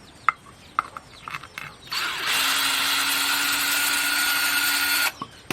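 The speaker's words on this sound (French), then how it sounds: "Et donc là je vais le dévisser pour vous montrer la pièce là" A power tool unscrews a screw from a part of an electric fence: a few scattered clicks and handling knocks, then a steady, fairly loud whirring drive that runs for about three seconds before stopping abruptly.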